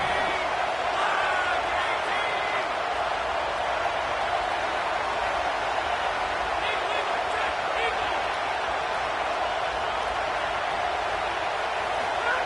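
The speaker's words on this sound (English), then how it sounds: "this home crowd is fired up and ready to make a difference today" A fired-up home crowd at a football game gives a loud, steady roar of cheering that fills the whole stretch without a break.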